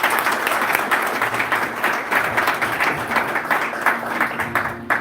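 Warm audience applause at a corporate partnership event, full clapping from a crowd that stays loud and sustained throughout, with faint murmuring underneath.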